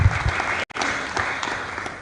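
An audience at a political launch event applauds after a speech, loud sustained clapping from many hands with a brief dropout midway.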